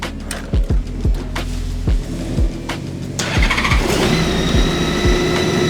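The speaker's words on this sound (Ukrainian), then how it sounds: "бустер впорався і запустив двигун" A motorcycle that sat unused for four years, its battery dead, fires up off a Dnipro-M JS-16C jump starter: several sharp cranking bursts, then the engine catches and settles into a steady, loud idle with a whine on top.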